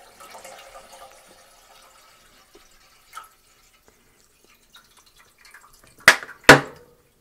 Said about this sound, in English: And just go ahead and start pouring in water